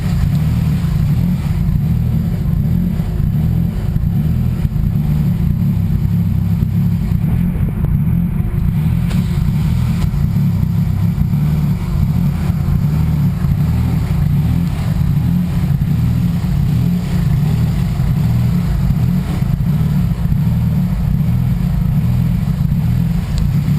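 A 650 hp twin-scroll turbo Honda Civic engine idles while warming up, a loud, steady low rumble that continues unbroken throughout.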